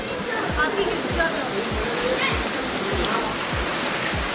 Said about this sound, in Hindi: इस तरीके से पानी निकलता रहता है पहाड़ों के अंदर से।